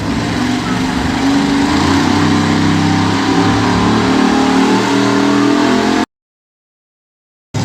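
At a truck pull, a pulling truck's 5.7 liter Hemi engine roars loud and sustained under heavy load, a dense rumbling drone that cuts off abruptly into silence before a brief return.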